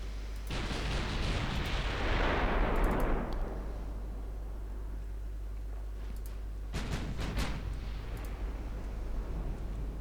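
Battleship guns firing high-explosive shells in the naval game Ultimate Admiral Dreadnoughts: a booming salvo rolls out and fades over a few seconds, then a second burst of sharp reports follows, all over a low rumbling bed.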